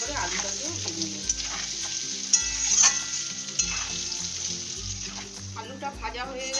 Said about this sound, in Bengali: লাল লাল করে আলুটাকেও ভেজে নিই